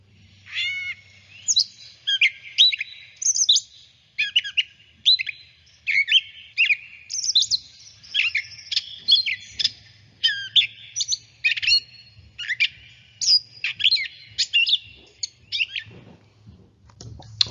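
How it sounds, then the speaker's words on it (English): A catbird sings a long, rambling run of varied squeaky chirps and short phrases, close and clear, with brief pauses between bursts over a faint low hum. "And that's how you know you have a catbird."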